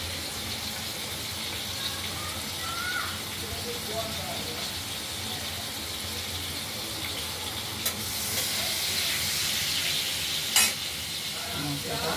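Ground spice paste with turmeric frying in a pan for a boal fish curry with potatoes and coriander, a steady close sizzle and hiss with occasional stirring scrapes and a brief sharper crackle.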